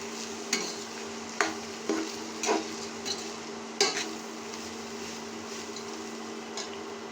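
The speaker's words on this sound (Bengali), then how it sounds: "মাঝে মধ্যে এভাবে একটু নেড়ে চেড়ে দেবেন, না হয় নিচ দিয়ে পোড়া লেগে যেতে পারে" A spoon stirs vegetable khichuri in a pot, giving several spaced scraping clunks against the metal over a low, steady simmer, close by with no talk.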